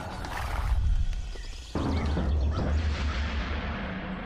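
A cartoon horse whinnies loudly up close, followed by a sharp thump and a steady low rumble of hooves or movement, with no talking.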